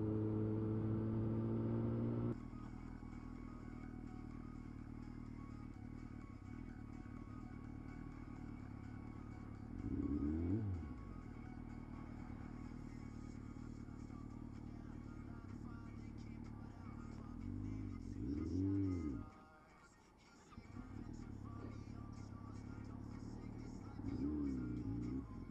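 A motorcycle engine stalls and is restarted, then revs as the bike pulls away, with louder surges around ten, nineteen and twenty-four seconds and a brief dip in between, heard continuously without talk.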